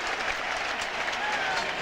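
A football stadium crowd at a 1999 Cleveland at Baltimore game roars and claps in a dense, sustained wall of cheering noise after a big hit, steady throughout the short stretch.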